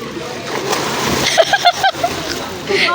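Several splashes of people jumping one after another into a river at night during a family night swim, loud and close, with lively voices talking and shouting around them.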